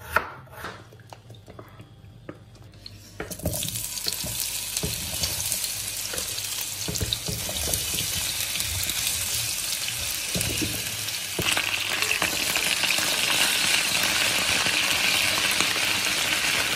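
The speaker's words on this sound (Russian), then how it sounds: "я тут жарю блины и параллельно хочу пожарить картошку" Pancakes and homemade potatoes fry in a pan, starting with a few knocks and clatters, then a dense steady sizzle that grows louder and continues close by with no talking.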